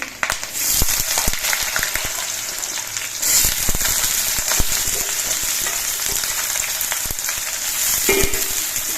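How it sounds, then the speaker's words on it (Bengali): Potatoes fry in hot oil with chili and nigella seeds, a loud, constant crackling sizzle that never lets up. "এবার আলুগুলো কিছুক্ষণ ভেজে নিতে হবে"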